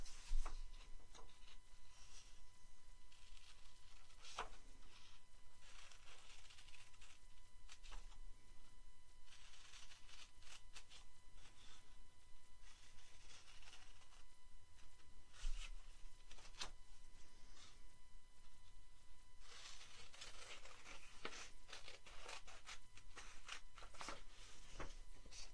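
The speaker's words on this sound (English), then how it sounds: "we're going to cut our piece out" Scissors snip steadily through a paper dinosaur cutout, giving quiet, close, irregular cutting and rustling sounds with short pauses between strokes, alone without talk.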